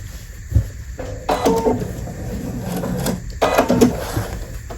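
A sewing machine stitches fabric for a polymer clay pincushion doll body, running in two short close bursts of mechanical whirring and clatter separated by pauses and handling noises.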